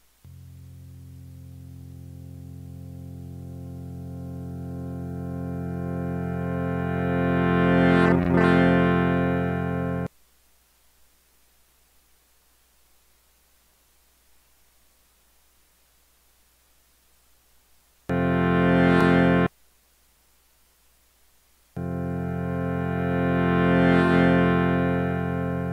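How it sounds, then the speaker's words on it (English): Reversed guitar strum set up as a song intro: a swelling tone rises from silence to a sudden cutoff, then after a gap a short loud burst returns and another backward swell builds to the end. "all I did was take the strum and reverse it, and now this could be the intro to your song"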